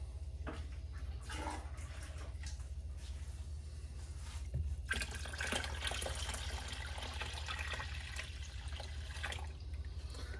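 Water poured and swirled into a gold pan while panning dirt outdoors, soft splashing and trickling over a low steady rumble, growing a little fuller partway through.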